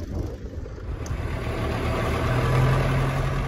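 A farm tractor fitted with a hay spear idles steadily, a low continuous engine rumble that holds even and close with no talk over it.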